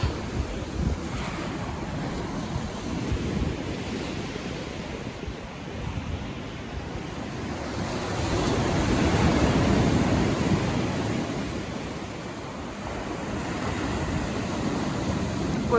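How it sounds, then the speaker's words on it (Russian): Strong surf rolls onto a deserted winter seafront at Gurzuf, a continuous roar of breaking waves that builds to a louder surge midway, mixed with gusty wind noise against the microphone, with no talk. "Такой накат, да, шикарный."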